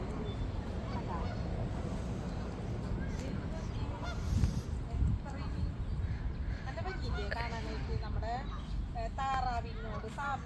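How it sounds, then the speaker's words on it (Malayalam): Canada geese honking repeatedly at a lake in Canada, a cluster of nasal calls rising toward the end over steady outdoor background noise and faint murmuring. "ഇവിടെ ഒരുപാട് കനഡിയൻ ഗൂസ് ഉണ്ട്"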